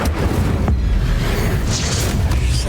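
An Incendio fire spell in Hogwarts Legacy goes off as a loud, continuous roaring blast of flame that fills the whole moment, with crackling bursts on top.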